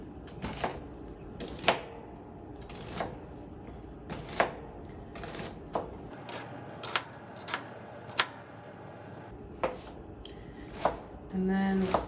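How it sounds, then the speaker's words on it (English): A knife slices an onion into thin diagonal slices on a cutting board for pico de gallo, a series of crisp, close thuds at an uneven, unhurried pace, each cut clear against a quiet background. "Then I cut down the middle of my onion. And then do a diagonal, thin slices."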